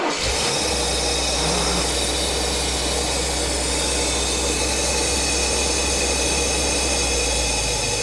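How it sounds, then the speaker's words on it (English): A Mercedes 450SEL engine starts and then idles steadily with a loud, constant hum and hiss while the distributor timing is turned between advanced and retarded. "Now watch, we're going to start the engine."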